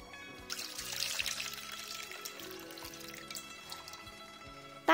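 Peeled peanuts rinsed in water for a bone broth, soft pouring and sloshing water with a faint trickle, fairly quiet, ending with a brief louder clatter.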